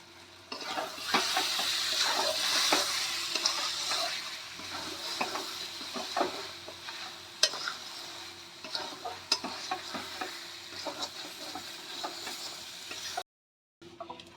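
Roasted kasuri methi stirred into masala frying in a pan, with a steady sizzle and repeated spoon scrapes and taps against the metal, up close, ending in a short silence.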